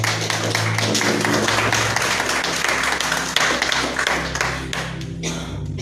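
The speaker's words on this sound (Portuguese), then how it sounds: "Se coloquem de pé, palmas para Jesus." A standing church congregation claps for Jesus at a live-streamed service, steady rhythmic handclaps filling the clip over sustained low musical tones.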